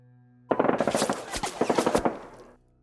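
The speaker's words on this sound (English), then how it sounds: "and shooting their SMGs" A single burst of submachine gun fire rattles off in rapid, closely spaced shots lasting about two seconds, loud and close, then cuts off abruptly.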